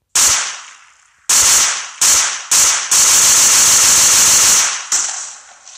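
Loud explosions in a Minecraft mod game, a sharp blast followed by several rapid bursts and then a long roaring run of booms before one final bang that fades out.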